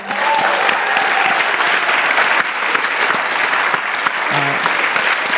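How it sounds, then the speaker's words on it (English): Sustained audience applause at a town hall, steady and dense for the whole stretch, with a few faint voices underneath near the end. "Could you give them one more round of applause, please?"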